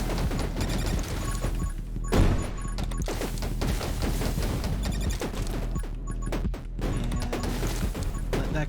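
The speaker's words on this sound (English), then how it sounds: "those explosions finished off the boss for us" Explosions go off during a boss fight in the video game 20 Minutes Till Dawn: dense, continuous crashing and thudding blasts layered over busy game sounds, with one heavier impact standing out near the start.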